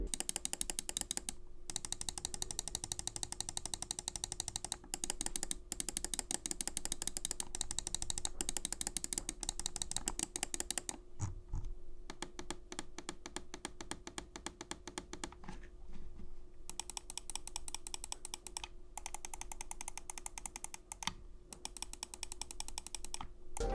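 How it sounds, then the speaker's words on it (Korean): Button clicks from a Razer Orochi V2 ultralight mini wireless mouse: dense, rapid, crisp clicking that runs almost nonstop with a few brief pauses, heard up close and alone. "마지막으로 클릭 소리도 들어보겠습니다."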